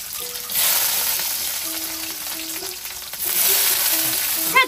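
Garlic frying in hot oil makes a loud, continuous sizzle and spatter close by, swelling in two strong stretches, with faint scraping from a stirring utensil and no talk.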